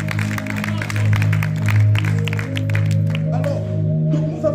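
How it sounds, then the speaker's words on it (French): A church congregation applauds loudly for the Lord, with dense clapping and crowd noise layered under a sustained low musical drone and voices. "Acclame très fort pour le Seigneur"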